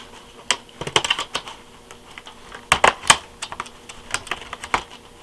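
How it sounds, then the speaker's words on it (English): A knife cuts into the plastic blister packaging of a Crosman/UHC mini electric airsoft gun, making irregular sharp clicks and crackles in quick bursts, close and fairly loud, with no talk. "I'm pretty sure I just cut the bubble that holds the gun in place."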